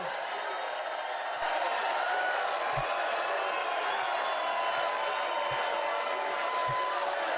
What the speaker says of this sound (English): What are they cheering for?